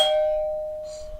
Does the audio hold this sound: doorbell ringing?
yes